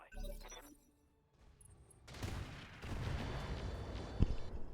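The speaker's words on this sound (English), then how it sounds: "Firing a full salvo." A BattleTech mech unleashes a full weapons salvo in the video game, a loud dense burst of crashing, booming fire that swells after a quieter lead-in and holds with sharp impacts to the end.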